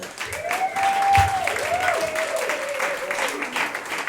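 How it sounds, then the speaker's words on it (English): An audience at a small comedy show claps for a comedian coming to the stage, the applause steady and moderately loud, with a few whoops and calls over it. "Everybody clap your hands for Josh Rosenstein."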